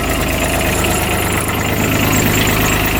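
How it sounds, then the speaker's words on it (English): A Kubota diesel engine in a UTV idles steadily and loudly up close, a continuous low rumble with an even knocking pulse and no voices. "It's obviously a diesel."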